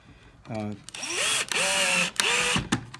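A power drill slowly drives a screw into a wooden dresser drawer during a repair, its motor whining in several short bursts with pauses between, close and fairly loud, with a brief voice at the start.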